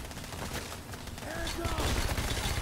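Gunfire in the heist shooter game Payday: The Heist, a dense, continuous rattle of shots at moderate loudness under a busy mix, with a low rumble building toward the end.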